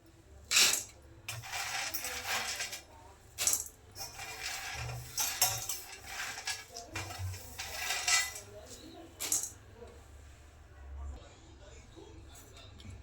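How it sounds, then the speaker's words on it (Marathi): Peanuts heated with a little oil in a pan for Solapuri peanut chutney rattle and scrape under repeated stirring, coming in close bursts over a steady low background hum. "परत हे शेंगदाण थोडं तेल टाकून गरम करून घेते"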